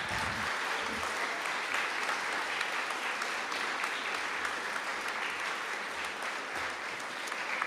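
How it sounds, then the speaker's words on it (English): An audience at a grades 4-8 middle school awards assembly applauds its teachers, a steady, dense wash of clapping from many hands that holds evenly throughout with no talk over it. "could we give a huge round of applause to the teachers?"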